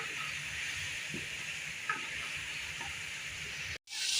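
Garlic paste frying with onions in hot ghee gives a steady, close hiss and sizzle with faint stirring clicks, running evenly before a brief cut near the end.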